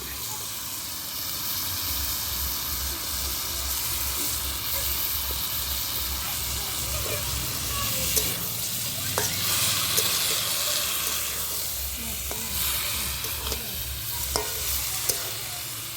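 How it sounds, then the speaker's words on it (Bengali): Cabbage and potatoes fry in a pan while being stirred, a steady broad sizzle running throughout with occasional scraping clicks from the utensil, close and fairly loud, no speech. "বাঁধাকপির সঙ্গে কিন্তু অনেকক্ষণ টাইম নিয়ে কষাতে হবে"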